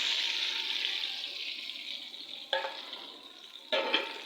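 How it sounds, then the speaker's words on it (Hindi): Hot tadka tempering poured into dal in a handi, a loud hissing sizzle that slowly fades, with two fresh bursts of crackle as more goes in; no talking. "ये तड़का मैंने लगा दिया है दाल के अंदर।"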